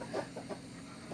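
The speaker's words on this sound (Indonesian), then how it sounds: "ayam hirang lawan ayam putih" A chicken clucks in a few short, faint bursts, a quick cluck-cluck pattern heard softly in a brief moment.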